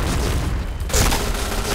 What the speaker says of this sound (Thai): โอ้ยระเบิด